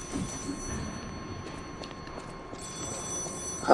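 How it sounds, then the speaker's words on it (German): A telephone ringing in the video game Lies of P, a faint repeating electronic ring under low game ambience, with a louder sound bursting in at the very end. "Hallo, Telefon, geht meiner ran?"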